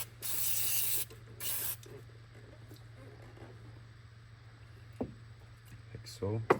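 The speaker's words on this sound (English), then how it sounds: "you can grab your brake cleaner" Brake cleaner sprays onto residue around the oil cap of a BMW 320d B47 diesel engine in two loud, short hissing bursts, followed by quiet talk and light mechanical clicks, and a final brief spray.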